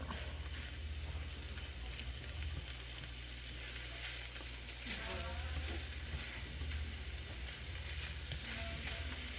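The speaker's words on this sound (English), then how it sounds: "Browning up the sausage a little bit." Sausage browns in a pan for a homemade pan pizza, giving a steady close sizzle with occasional stirring and no talking.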